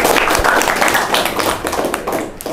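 A group of students and teachers clap together in a classroom, a dense, steady burst of applause sustained for a couple of seconds at fairly close range.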